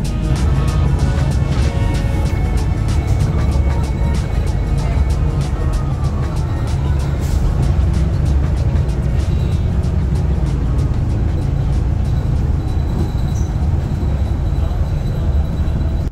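Southern Star bus on Circumferential Road near Alona Beach, a loud, steady engine and road rumble that fills the whole stretch without a break.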